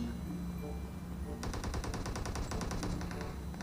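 Gunfire in PUBG Mobile: a rapid burst of automatic shots starts abruptly partway through and rattles on in a fast, even rhythm, loud and close, over a low rumbling background.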